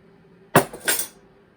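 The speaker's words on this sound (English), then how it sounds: "I'm going to get a new spoon here." A metal spoon picked up from a table clinks twice in quick succession, bright and close, against a quiet background.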